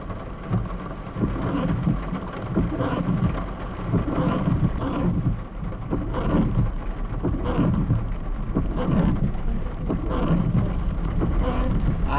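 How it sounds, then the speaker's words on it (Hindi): Rain pours steadily with rolling thunder along a mountain road on the way to Chopta, a dense continuous wash of sound with low rumbles swelling and fading throughout. "अचानक से बारिश स्टार्ट हो गई है। बिजली भी कड़क रही है"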